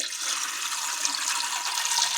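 Water is poured into a pressure cooker holding chickpeas, making a steady close rushing splash for a couple of seconds with no voices.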